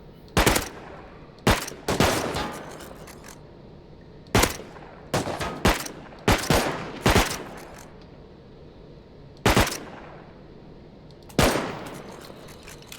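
Gunfire in the survival video game Rust: about a dozen sharp, loud single shots and quick double shots at irregular intervals, each cracking out over a low, steady background hum.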